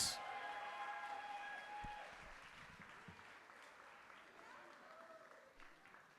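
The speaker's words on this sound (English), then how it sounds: "let's give them another big round of applause" Guests at a wedding reception applaud the couple, a fairly faint wash of clapping that follows a brief musical tone at the start and carries on steadily, with scattered voices in the room.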